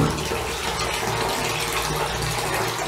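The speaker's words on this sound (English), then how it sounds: "straight away it starts fizzing quite fast actually, and fills the bath water" A Lush Jelly bath bomb fizzes in hot bath water, giving a continuous, dense hiss of bubbling water that stays steady and moderately close, without talk.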